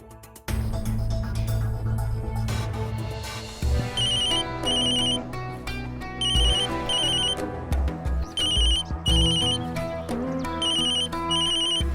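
A phone ringtone chimes in repeating electronic bursts over a steady musical background, loud and close.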